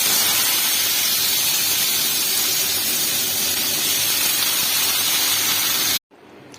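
Vegetable curry sizzles loudly in a hot pan with panch phoron spices, a steady broadband frying hiss that runs without pause for about six seconds and then cuts off abruptly.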